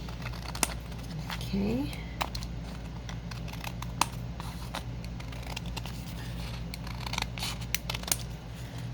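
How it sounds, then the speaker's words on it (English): Sharp scissors snip along the edge of a vintage book page pocket tag, giving a scattered series of crisp, close cuts over a low background hum, with a brief spoken word near the start. "I'm going to trim this edge like I do sometimes"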